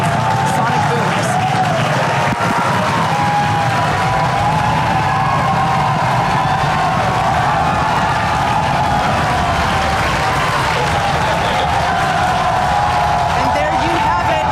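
A large crowd at Kennedy Space Center cheers and whoops continuously after Falcon Heavy side boosters land, a dense roar of voices and applause with a commentator's speech running over it.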